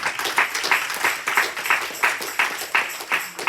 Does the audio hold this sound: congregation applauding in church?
yes